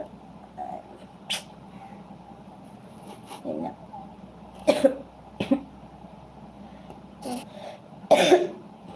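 A woman sitting indoors with a cold coughs in several short, sharp bursts spread across the stretch, with quiet room noise between the coughs.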